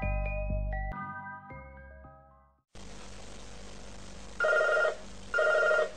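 A telephone in a woman's house rings twice with an incoming call. The two bright, trilling rings come in short bursts over low hiss, after a few eerie musical notes, in a fan-made horror short.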